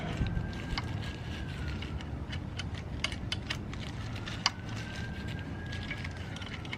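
Small metallic clicks and light ratcheting come from a wrench snugging the 8mm oil drain bolt on an Alta Redshift SM motorcycle, scattered and close over a steady low background hum.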